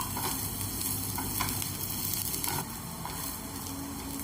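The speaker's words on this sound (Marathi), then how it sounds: "10 ते 12 लसणाच्या पाकळ्या आणि 1 इंच आलं, हे आपण व्यवस्थित फ्राय करून घेऊया याच्यात।" Garlic cloves, ginger and coconut frying in oil in a pan for chole masala, a steady close sizzle with soft stirring scrapes throughout, no voices.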